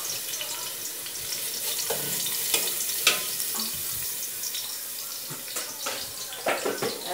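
Garlic fries in oil with a hissing, bubbling sizzle, broken by scattered clinks and scraping from stirring, while a voice speaks briefly in the background.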